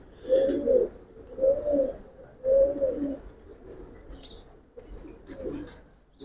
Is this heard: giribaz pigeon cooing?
yes